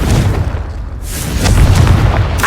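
A loud, booming blast from the Confringo explosion spell in the Hogwarts Legacy video game, with a sharp burst and then a second heavy rumbling boom.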